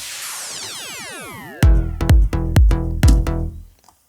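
Laser-style electronic sound effects in an electronic dance song: sweeping descending zaps up front, then a run of sharp rhythmic hits with deep low end, loud and upfront with no voice.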